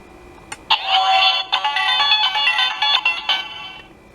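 The Kyuranger Kyu the Weapon toy, powered by two AAA batteries, switches on with a loud, bright electronic chiming jingle lasting a few seconds, heard close and alone.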